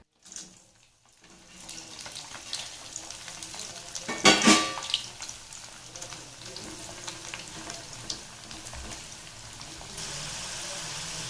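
French fries bubble and sizzle in hot oil with a steady crackling hiss, swelling into a brief louder burst midway and then settling back to an even fry.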